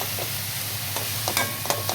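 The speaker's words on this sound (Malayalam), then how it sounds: "ആ ജലാംശം വറ്റുന്നത് വരെ നമ്മൾ നല്ലപോലെ ഇളക്കി കൊടുക്കണം." Banana flower thoran being stirred in a pan as its moisture cooks off, with a steady soft sizzle and a few light scraping strokes of the spoon near the end, close and fairly quiet.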